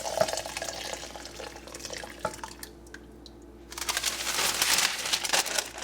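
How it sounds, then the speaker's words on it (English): Boiling water from a tea kettle poured gently over rice in a crock pot, a steady splashing trickle that eases briefly midway and then swells louder toward the end. "Now pour it gently over your rice."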